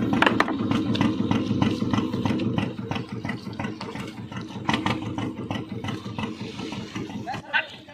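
A small four-cylinder fishing boat engine on a river idles with a steady, close, throbbing drone, running continuously beneath intermittent knocks and clatter aboard.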